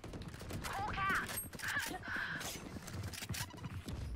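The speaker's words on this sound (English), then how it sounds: "They just shot me through smoke." Sharp bursts of gunfire crack through a Valorant match in a quick cluster, mixed with other in-game effects while a voice talks over them.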